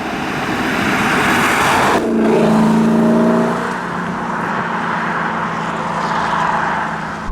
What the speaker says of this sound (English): it's almost LFA-ish in the way it sounds, because it's, naturally aspirated engine